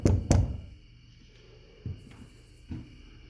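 Knuckles rap on the wall of a boarded-up wooden cabin in Cades Cove: two firm, close knocks, then after a pause two softer single thuds, in an otherwise quiet interior.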